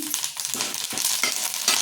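Loud, close sizzling and crackling of curry leaves frying in hot oil in a pan, with stirring scrapes throughout.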